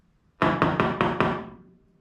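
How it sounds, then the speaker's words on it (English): Four quick, evenly spaced metallic knocks ring out close by as a stuck flapper piston on a Chevelle is tapped to free it, each hit decaying briefly before the next, with no talk. "Okay, I tapped it a little bit and it's starting to come."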